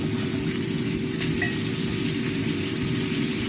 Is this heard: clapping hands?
no